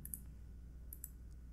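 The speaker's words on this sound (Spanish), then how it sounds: "Le voy a dar clic y por aquí debe estar esa opción." A computer mouse gives a few faint, sharp clicks, two quick pairs about a second apart, over a low steady hum.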